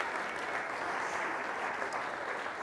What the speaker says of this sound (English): Let's clap it up for all of these amazing partners